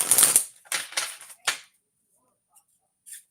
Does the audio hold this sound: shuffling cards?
yes